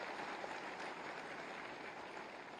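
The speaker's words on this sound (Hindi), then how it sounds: "एक बार जोरदार तालियों से आप मंचासीन समस्त महानुभावों का स्वागत करें" Audience applause welcoming dignitaries seated on stage at an official appointment-letter ceremony, a steady, continuous wash of many hands clapping, distant-sounding and fairly faint, with no voices over it.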